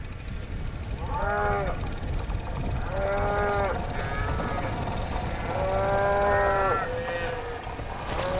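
Calves moo repeatedly in a barn warmed by a heater during extreme cold, several drawn-out calls at mid distance with steady background noise between them.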